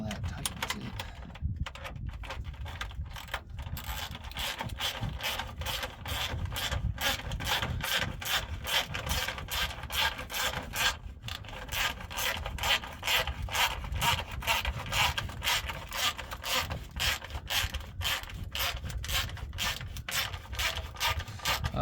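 A Tekton ratchet tightens clamps on a broken exhaust pipe, making a steady run of close, rapid rasping clicks that carry on for the whole stretch with no voice over them.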